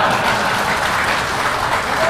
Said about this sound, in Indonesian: Jangan dulu tepuk tangan, ada lagi pantun penutup.